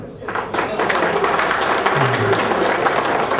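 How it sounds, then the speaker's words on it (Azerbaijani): An audience breaks into loud, sustained applause for a speaker at a gathering, a dense steady wash of many hands clapping with voices mixed in throughout. "o tərəfdən gürültülü alqışlar gələcək"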